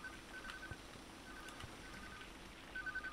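A phone ringing in a video game, a faint, repeating electronic ring in short tonal bursts at an even rhythm, set against quiet background noise.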